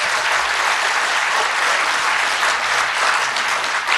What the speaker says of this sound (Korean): 큰 박수 한번 다시 부탁드려도 되겠습니까?